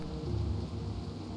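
Steady rain in the Turtle WoW video game, a dense, even hiss of falling water with a low rumble beneath, heard alone over a brief stretch.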